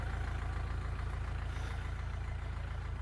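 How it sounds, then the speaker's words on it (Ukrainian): A low, steady engine drone rumbles continuously from a Scout 404 tractor straining under load pulling a homemade 2-metre cultivator, heard alone without speech. "трактору чутно, що тяжче з цими стрілами, це не долото тягти"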